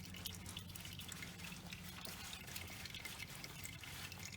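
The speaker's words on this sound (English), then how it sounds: "Just drain it into the oil pan." Motor oil from a removed oil filter on a 2002 Chrysler PT Cruiser draining into an oil pan, a faint steady trickle with dripping over a low hum.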